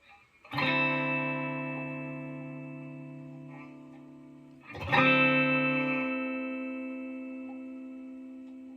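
Two sustained distorted electric guitar chords from the bridge pickup of a Firefly FFST HSS Strat copy ring out one after another, each struck sharply and left to decay slowly, with no talking.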